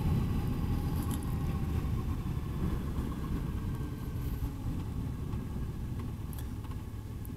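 A 2013 Triumph Bonneville motorcycle engine running at slightly high RPM while riding, a steady low rumbling drone with constant wind and road noise, no sharp changes.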